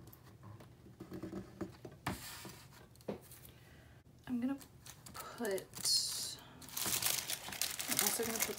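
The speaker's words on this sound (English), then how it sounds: "at the top of that is also where I'm gonna put this Choose Joy sticker" A paper sticker crinkles and rustles as it is peeled and pressed into a planner, in soft, brief bursts close by, with a person talking in between.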